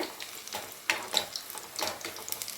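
Mutton kola urundai, spiced minced mutton balls, deep-frying in hot oil, giving a steady crackling sizzle with occasional stirring sounds throughout and no talking.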